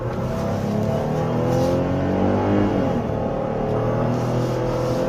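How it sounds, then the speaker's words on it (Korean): A Jeep's 3.6-litre engine roars steadily under heavy acceleration uphill, its revving tone climbing and holding loud and close throughout, with no talking. "3600cc 엔진에서 나오는 힘과 이게 여기가 또 언덕길이라서"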